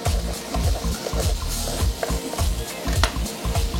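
Onion and carrots sizzle in a frying pan for pumpkin soup, with steady close frying noise broken by repeated scraping stirs of a utensil against the pan.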